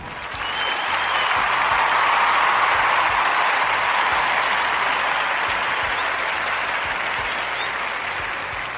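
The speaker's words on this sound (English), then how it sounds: "give them a round of applause" Sustained, dense applause from a large audience at a public event, fading in quickly and holding steady and loud for about nine seconds without speech.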